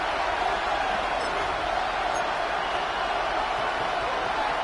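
Steady, loud roar from a Buffalo football crowd late in a close fourth quarter, a dense wash of cheering and noise holding unbroken and evenly throughout, with no single voice standing out.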